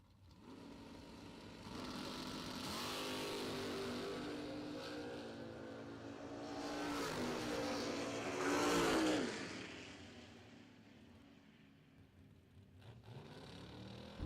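Drag racing at a bracket racing event: a Mustang and a Camaro rev loudly at the line and launch, engines roaring and swelling together before fading into the distance.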